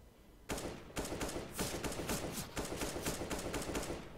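Rapid bursts of gunfire from the video game Counter-Strike: Global Offensive, with repeated loud volleys of shots in quick succession and no pauses across the whole stretch.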